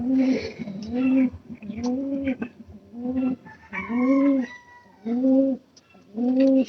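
A pair of pigeons coo close by in a repeated, rhythmic series of soft, throaty calls separated by short pauses.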